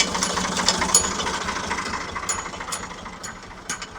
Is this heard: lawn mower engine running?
yes